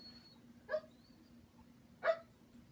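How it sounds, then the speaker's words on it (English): A dog barks twice in the background indoors, two short, faint yips spaced about a second apart over a quiet room hum. "You can hear Winnie in the background barking."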